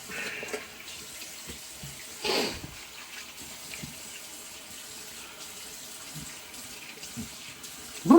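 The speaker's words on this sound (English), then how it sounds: "I'm going to go ahead and rinse all this off." Tap water runs steadily while shaving soap is rinsed off, a fairly quiet continuous flow with a couple of brief louder splashes partway through and a sharp knock at the very end.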